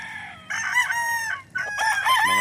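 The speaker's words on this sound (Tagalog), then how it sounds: "Hindi ko alam kung anong pangalan ng mga manok ito." Gamecock roosters crowing at a fighting-cock farm in Bauang, La Union, two loud close crows in quick succession, each a stretched, strained call with a brief pause between.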